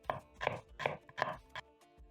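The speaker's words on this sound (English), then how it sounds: "I'm going to cut my onion in half because I'm going to be using only one half. And then I'm going to slice into strips." A knife slices an onion half into strips on a board, about five crisp rhythmic cuts up close at moderate volume, with no talk.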